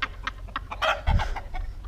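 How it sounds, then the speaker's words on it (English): Chickens cluck repeatedly at close range in a backyard, short choppy calls coming in quick irregular bursts with one louder squawk near the middle. "We're gonna get attacked by chickens."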